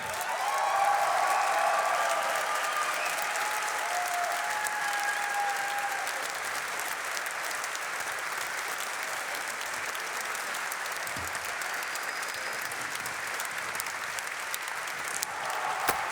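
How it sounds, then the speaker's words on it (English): Sustained applause from a large crowd at a DreamLeague esports grand final, loud and steady throughout with dense clapping, gradually settling to a slightly lower level toward the end. "let's give a big round of applause"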